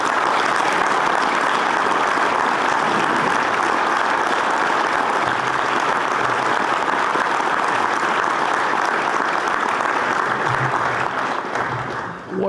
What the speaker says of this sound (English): please join us in honoring the legacy of ABCA Hall of Fame inductee Costa Kittles with a round of applause